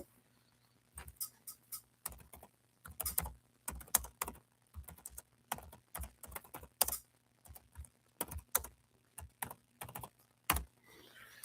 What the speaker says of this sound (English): Let me get it typed in.